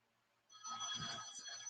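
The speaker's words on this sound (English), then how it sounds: "my phone keeps ringing. I don't know why. I'm not going to answer it" A phone rings faintly in the background, a brief steady electronic tone that starts abruptly and sustains, with no voices over it.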